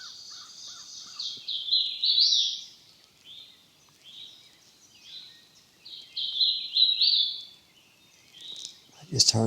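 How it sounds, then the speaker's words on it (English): A distant bird calls in repeated harsh, crow-like phrases in two bursts across a quiet outdoor scene, faint and far off, ending with a brief close handling noise. "I just heard a bird way over on the other side"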